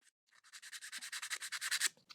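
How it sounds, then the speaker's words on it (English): Sandpaper rubs back and forth on wood by hand, about fifteen quick rhythmic scratchy strokes, close and fairly quiet with no voices. "I'm hand sanding all of these."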